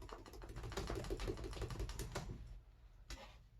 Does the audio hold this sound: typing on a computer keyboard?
yes